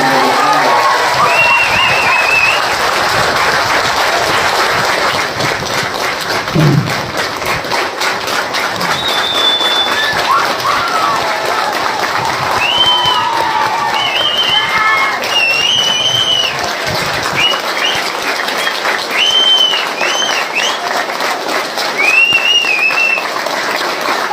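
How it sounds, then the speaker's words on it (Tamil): A large crowd at a Tamilaga Vettri Kazhagam political rally announcing the party symbol gives loud, sustained applause. Scattered whistles and cheers sound throughout. "இந்த மாதிரி ஒரு கைத்தட்டல் வாங்கணும்"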